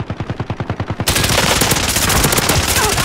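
Rapid automatic gunfire in Call of Duty: Modern Warfare. It opens as a clear, evenly spaced burst of close shots, then breaks into a dense, loud stream of overlapping fire.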